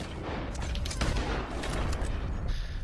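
A hunting rifle fires at a pronghorn in Red Dead Redemption 2, a loud report with dense crackling echoes and mechanical clatter filling nearly three seconds.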